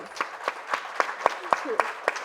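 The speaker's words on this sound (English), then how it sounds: "Please, one more round of applause." Audience applause at a World Elder Abuse Awareness Day event, heard as a short run of distinct, fairly close hand claps at a steady rhythm.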